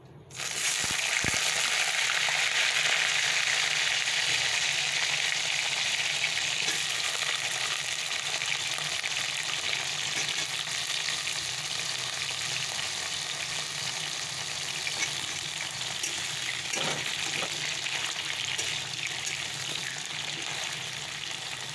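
Pointed gourd (potol) fries in oil, starting with a sharp splash and then a continuous, close sizzle with occasional faint stirring clicks, no voices.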